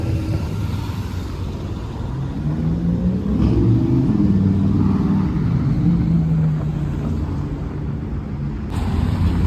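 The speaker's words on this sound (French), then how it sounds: "Regardez ce qui arrive, Ferrari Dino." Ferrari Dino car arriving and driving past on a Paris street: a loud, steady engine drone with rising pitch as it approaches and passes close by, amid street rumble.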